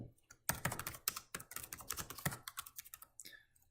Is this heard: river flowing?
no